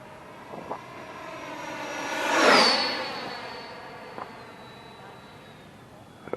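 Freewing Mirage 2000 80mm EDF jet RC plane making a flyby, its ducted-fan whine swelling from faint to a loud pass at mid-clip and then fading with a falling pitch, heard at a distance outdoors.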